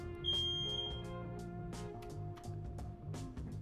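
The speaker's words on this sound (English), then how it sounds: "I wonder if my smoke alarm is running out of battery. Do you guys hear the beeping?" A household smoke alarm with a low battery gives one brief, high beep early on, faint beneath steady electronic tones in the room.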